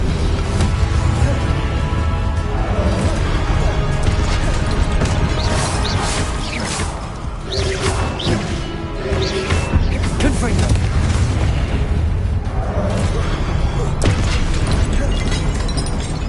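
Incendio fire spell cast repeatedly in Hogwarts Legacy, loud booming bursts and crackling impacts layered over dense game combat noise and music, with a voice talking over it.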